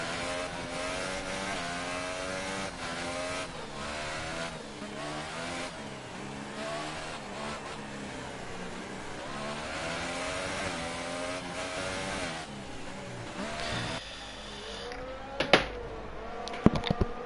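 Several race cars in a PS4 racing game at the Hungary round weave about while warming their tyres, a continuous overlapping engine drone with rising and falling revs, loud and close, that cuts out near the end, leaving a few brief clicks.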